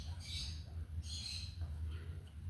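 Pet birds at home give several faint, scattered squawks and calls over a low indoor hum, distant from the microphone.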